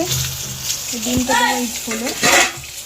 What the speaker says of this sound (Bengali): ওদের এখানে ভাজা হচ্ছে